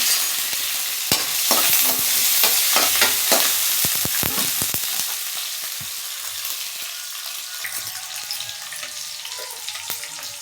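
Dried anchovies fry with mustard seeds and curry leaves in hot oil, a loud close sizzle broken by scraping stirs and clatters of a spatula that settle into a softer crackle.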